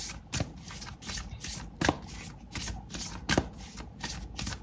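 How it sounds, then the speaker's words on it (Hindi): Tarot cards shuffled for a love reading, a steady papery riffling with sharper slaps about every second and a half, close and alone without any talk. "और कुछ कार्ड्स निकालूंगी मैं आपकी लव लाइफ से रिलेटेड"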